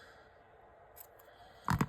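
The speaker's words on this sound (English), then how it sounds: "I like to use kitty scissors." Cheap children's kitty scissors snip a couple of times near the end, two close, crisp cuts after a quiet stretch with a faint click earlier.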